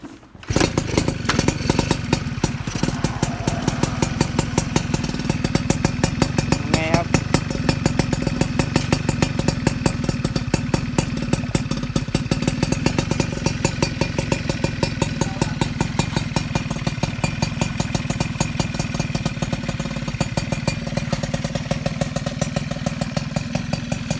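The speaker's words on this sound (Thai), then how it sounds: "ยัดลูกสองร้อยนะครับ เดี๋ยวลองมาฟังเสียงกันดูนะครับ" Custom RC100 motorcycle fitted with a 200 bore kit runs steadily and loudly up close, its engine chugging and rattling with a continuous mechanical clatter for the whole stretch, with no talking.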